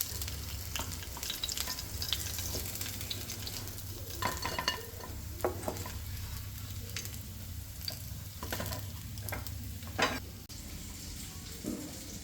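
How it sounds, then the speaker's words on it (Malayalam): Sardines fry Kerala style in a pan with a steady close sizzle, broken by occasional scraping and stirring clatters and no voices. "ഇപ്പം നമ്മുടെ മത്തി ഫ്രൈ ഇവിടെ റെഡി ആയിക്കൊണ്ടിരിക്കും"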